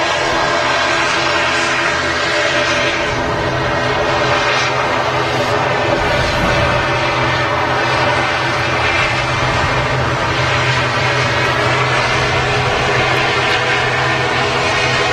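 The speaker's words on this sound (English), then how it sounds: "Eastern Airways. ATR. That's on its way to Southampton." Eastern Airways ATR turboprop airliner at Manchester Airport, a loud steady droning roar with a constant propeller hum, sustained throughout at close range without talk.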